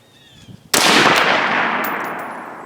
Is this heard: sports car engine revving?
no